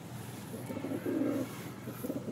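Black pigeons from an old breeding line coo close by, a few rolling throaty phrases, the loudest in the middle, over a low steady background hum.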